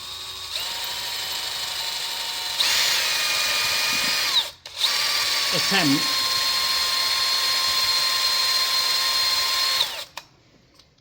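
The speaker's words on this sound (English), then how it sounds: "to drill that in the middle, and then go from there." A high-pitched power drill whines steadily while drilling metal, briefly stopping and restarting, with a faint voice underneath.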